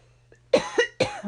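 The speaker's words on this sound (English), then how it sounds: "I'm coughing my ass out" Three sharp, close coughs from one person, the first a faint catch and then three loud bursts in quick succession, harsh and throaty, with no talking.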